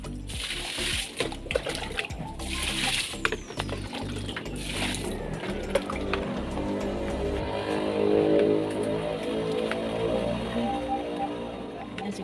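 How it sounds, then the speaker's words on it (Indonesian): Jakaba fungus solution is poured onto garden plants such as a coconut palm and lime, giving a close, steady splashing and pattering of water mixed with clicks and knocks. "Mari siram-siram."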